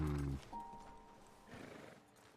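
A horse in Red Dead Redemption 2 gives a loud, short neigh at the start, followed by faint, scattered hoof clops on the ground in a quiet setting.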